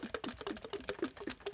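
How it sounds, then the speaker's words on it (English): Bassoon keys tapped without blowing give a quick, even run of soft, hollow clacks, about five per second, close and fairly quiet. "Tapping the keys."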